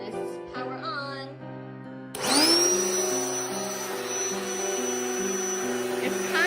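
The built-in pump of a King Koil twin air mattress switches on abruptly after a short electronic tone and settles into a steady, loud motorized whir. It runs continuously and close to the listener.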